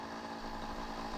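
Motorcycle approaching as a sound effect in a narrated horror story set in an abandoned hospital, a brief, dense, buzzing engine roar at moderate level with no speech.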